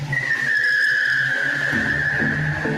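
Car tires squeal as the brakes bite in a long, loud skid, a sharp sustained screech in a radio-ad sound effect, with low rumbling beneath it near the end.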